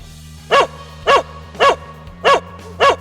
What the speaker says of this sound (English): A dog's bark is a window into their mind, a natural, essential part of who they are.